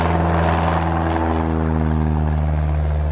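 A small propeller airplane flying low over a vast swamp, its engine droning steadily and loudly with a strong, even hum throughout and no talking.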